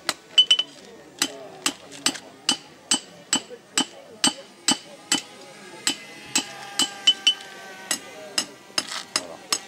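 A hammer forges the point of a knife blade, striking the metal in a steady, loud rhythm of about twenty sharp ringing blows, with a quick double strike near the start and short pauses between groups.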